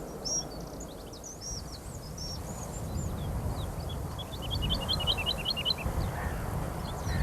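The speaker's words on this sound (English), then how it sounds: "This is a woodlark." A woodlark sings outdoors, with clusters of short, high, sweet notes that rise and fall in quick repeated phrases. The song sits over a steady, broad background rumble.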